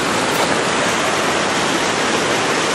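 A creek in Jamestown, Colorado runs swollen two weeks after the September 2013 flood, making a loud, close, continuous rush of water with no talking.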